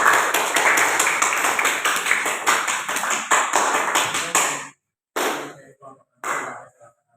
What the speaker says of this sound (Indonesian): Tepuk tangan untuk kelompoknya Mbak Cila.